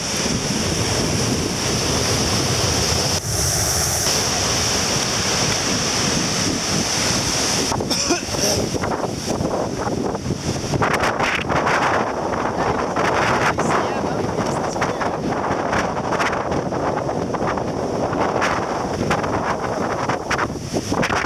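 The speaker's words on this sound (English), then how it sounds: "That's why the waves get bigger on the beach." Ocean waves break and wash continuously on a windy beach, with strong wind buffeting the microphone and loud rushing surf throughout.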